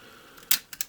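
An Olympus Trip 35 film camera fires its shutter with one crisp click, and the film winds on right after it in two quick ratcheting clicks, all close and loud against a quiet background.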